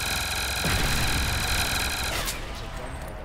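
A blunderbuss fires in a Dome zombies video game map: a loud, dense blast of gunfire noise that holds for about two seconds, then tails off into a fading rumble.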